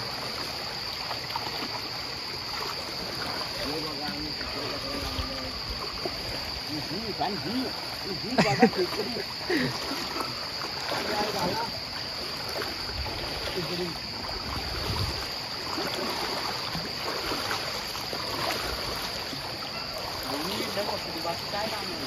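Stream water flowing over rocks during traditional crab catching, a soft steady burble and trickle that continues throughout, with people talking over it.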